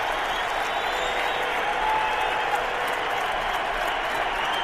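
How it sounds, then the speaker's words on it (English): Steady roar of a football stadium crowd cheering at a Browns–Patriots NFL game as Rodney Harrison enters, a continuous wash of distant crowd noise without distinct peaks. "And listen to the crowd. Rodney Harrison just came into the game"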